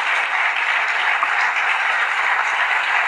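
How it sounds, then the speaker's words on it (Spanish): A church congregation applauds during a sermon, producing an even, sustained roar of many hands clapping at once, moderately loud, with no speech over it. "Fuertes aplausos"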